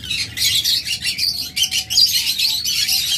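Cockatiels and lovebirds for sale chirp and tweet continuously, a dense overlapping chatter of many birds close by with a couple of longer whistled notes.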